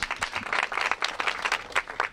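Audience applause at a kindergarten year-end ceremony in Zánka: a steady, close round of many hands clapping together, dense and continuous for the full stretch with no voices over it.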